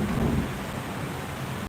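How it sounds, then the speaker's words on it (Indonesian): A heavy downpour pounds down with a low rumble of thunder at the start, a dense, steady roar that fills the brief moment. "kalau misalkan ada berisik-berisik di sini hujan guys"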